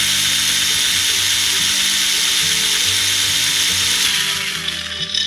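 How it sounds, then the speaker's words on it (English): A cordless drill spins a PVC spray paint mixer, giving a loud, continuous high motor whine with a fast rattling, clicking chatter underneath that loosens and fades near the end. "Might be a good way to burn out your drill too."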